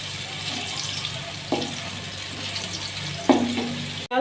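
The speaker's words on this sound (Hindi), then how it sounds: "प्याज देखें जी हमारे गोल्डन हो रहे हैं" Sliced onions frying in a pan toward a light golden colour for mutton pulao, giving a steady close sizzle with a couple of brief stirring knocks.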